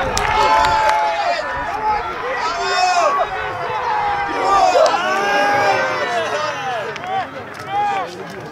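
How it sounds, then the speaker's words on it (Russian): A crowd at a Dynamo volleyball match cheers and claps, with shouting and noisy babble throughout that swells and fades. "Ваши аплодисменты!"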